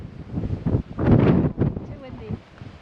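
Strong gusts buffet the microphone at an outdoor pistol range, a rough low roar that rises and falls in uneven bursts and peaks loudest midway.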